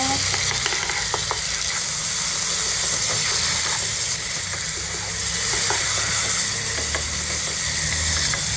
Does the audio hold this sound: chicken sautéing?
yes